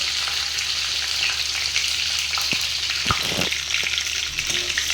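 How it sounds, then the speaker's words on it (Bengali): Bay leaves and panch phoron five-spice seeds fry in hot oil, a steady crackling sizzle with a couple of brief utensil scrapes and knocks. "আমি তেজপাতা আর 5 ফোড়নটা জাল দিয়ে নিচ্ছি"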